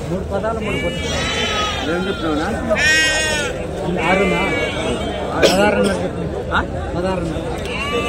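Sheep and goats bleat repeatedly at a busy Saturday sheep market in Angallu, their cries rising over a constant murmur of crowd chatter and nearby voices.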